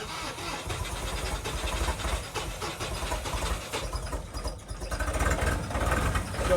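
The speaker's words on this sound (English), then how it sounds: "That diesel motor is going to take a little bit to warm up." Diesel motor driving an SCBA air compressor runs cold on a chilly day, a dense, steady rumbling drone with fluctuating mechanical noise, close and continuous throughout.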